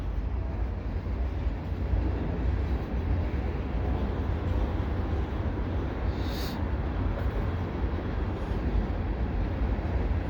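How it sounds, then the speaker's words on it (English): A slow CPKC manifest freight train of box cars, covered hoppers, lumber racks and auto racks rolls past at Dorval with a steady, broad rumble and hiss, continuous and fairly distant, without any talking. "Now this is a really slow moving train"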